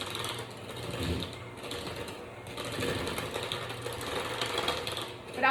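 An electric mixer whirs steadily through cookie dough for candy cane sugar cookies, a continuous mechanical drone swelling and easing slightly, with occasional quiet speech underneath.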